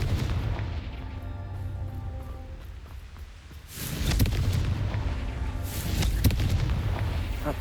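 The Confringo fire spell in Hogwarts Legacy goes off as a heavy booming blast that swells after a quieter rumbling stretch, followed by a second sharp burst, loud and close with no talking.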